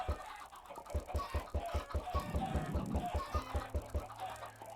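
Chickens cluck in a video game, a steady run of short, evenly spaced clucks and squawks close up, layered and continuous with no talking.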